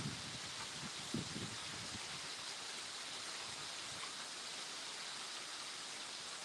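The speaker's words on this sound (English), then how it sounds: "It's raining here. I don't know if you can see the rain or not. It just started raining." Rain falling steadily outdoors at night, a soft continuous broadband hiss with a few faint low thumps near the start, fairly quiet and even throughout.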